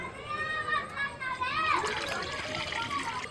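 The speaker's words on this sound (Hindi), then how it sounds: "कढ़ाई रख देते हैं और इसी में डालेंगे पानी।" Water pours into a wok (kadhai) set over a wood fire outdoors, a short rising gurgling fill stream, moderately faint, with voices talking in the background.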